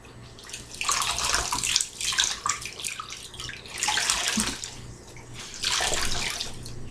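Water sloshes and splashes in bursts as a shirt is dunked and moved around in a basin, with quieter pauses between the splashes.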